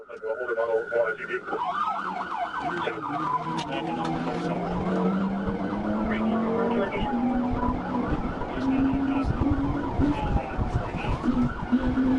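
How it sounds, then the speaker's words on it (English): Wailing police sirens from troopers' cruisers in a high-speed highway pursuit of a driver refusing to pull over, a loud, continuous sweeping rise and fall layered with engine and road roar throughout. "When troopers activated their emergency lights and sirens, the driver refused to pull over"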